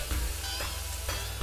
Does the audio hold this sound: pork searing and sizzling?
yes